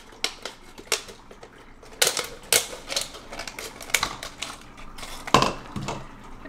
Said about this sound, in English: so we'll just cut the bottle here like so. Just cut right under the label.